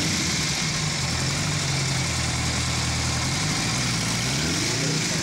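Running on its own, a 1953 Ariel Square Four 1000cc motorcycle engine makes a loud, steady, close-up churning drone that stays even throughout, with a slight change in pitch near the end.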